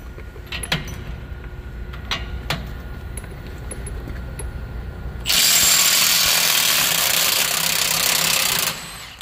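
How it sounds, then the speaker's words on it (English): Two fully charged 5 amp electric impact wrenches, a DeWalt and a Milwaukee, run at the same time removing nuts; a loud sustained whirring hammer burst rises suddenly after quiet workshop clicks and cuts off about three and a half seconds later. "We're gonna see, both at the same time, who is gonna win taking this nut off."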